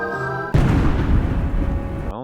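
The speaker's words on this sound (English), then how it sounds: "drag that dot down a little bit so the explosion part is not as loud" A loud explosion sound effect booms in suddenly after a brief tonal hum, a heavy low rumble that rolls and crackles for over a second before cutting off abruptly.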